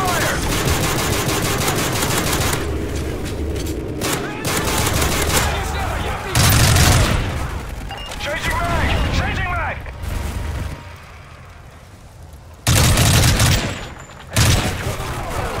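Heavy Call of Duty Modern Warfare combat fire, with loud sustained machine-gun bursts and scattered booming shots broken by short lulls. Voices shout over the shooting.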